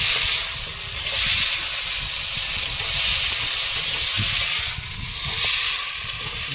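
Masala spices fry in a pot for a fish curry on a fishing boat on a Sundarbans river, making a steady close hiss and sizzle that swells and eases, alone without talk.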